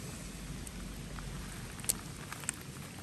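Soft, steady rain falls on gravel and rocks along a wet shoreline, a low even hiss with a couple of sharper drop hits near the end and no voices.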